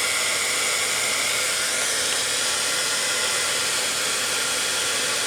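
A heat tool blows steadily while melting embossing powder on a junk journal collage page, a constant close airy whoosh like a hair dryer that runs unbroken with no talking.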